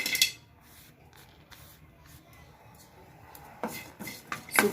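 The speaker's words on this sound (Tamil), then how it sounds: "நெக்ஸ்ட்டு நம்ம சுக்கு போட்டு வறுத்துக்கலாம்." Dry ginger roasting in a pan at home and being stirred, giving soft scraping and rustling. The sound is faint and steady, with a brief louder scrape at the start and a few sharper scrapes near the end. No one speaks.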